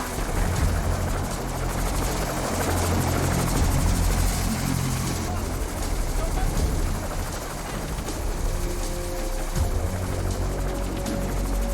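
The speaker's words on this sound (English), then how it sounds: "As the helicopter prepares to leave" A Coast Guard rescue helicopter's loud, steady rotor thrum and engine whine dominate throughout, close overhead and unbroken, at Piha beach.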